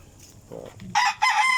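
A rooster crows loudly nearby in two bursts, after brief clucking from chickens in a backyard farm.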